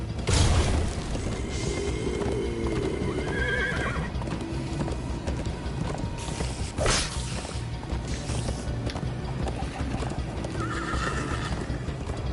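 A horse gallops in Minecraft: Story Mode with steady clip-clop hoofbeats and a whinny, mixed into a loud, busy game soundtrack throughout.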